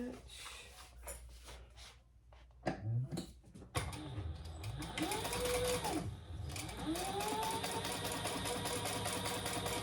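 A sewing machine top stitches a Leah tote bag, its motor running in steady bursts that settle into a continuous mechanical whir, with someone talking over parts of it.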